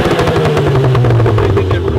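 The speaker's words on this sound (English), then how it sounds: "So then the sport mode gives it a little bit of pops and bangs" Revving 2017 VW MK7 GTI with a Corsa performance exhaust in sport mode, a loud continuous engine drone broken by rapid, crackling pops and bangs in a steady stutter.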